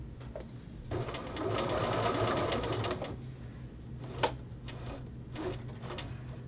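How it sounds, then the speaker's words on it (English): Domestic sewing machine stitching a men's shirt collar to its facing toward the collar tip, a steady close motor whir for a couple of seconds, then stopping, with a few small clicks of handling afterward. "I continue to sew towards the tip here."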